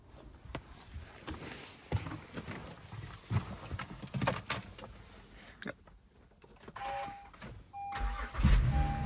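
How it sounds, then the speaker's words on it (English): A 2014–2020 Acura MDX engine cranks and starts after a battery replacement, heard from inside the car amid clicks and cabin noise, with a brief chime and a rising engine rumble near the end. "Let's get in our car and start it, see what happens."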